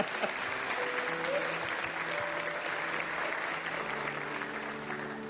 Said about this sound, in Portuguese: Vamos aplaudir de novo esse senhor.